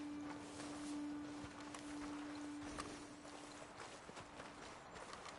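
Horses in Red Dead Redemption 2 give a soft, steady clip-clop of hooves under a continuous low hum, with a faint scattered stepping texture running throughout at moderate, even loudness.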